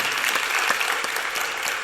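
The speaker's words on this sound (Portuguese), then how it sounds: "para quem também eu peço uma salva de palmas" An audience at a Brazilian guitar concert breaks into dense, sustained applause, many hands clapping together at steady volume throughout.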